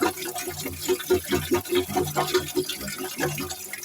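Taro root being rinsed by hand in a pot of water for a dhaba-style arvi curry, a steady run of close splashing and sloshing with repeated small surges of water, no talking.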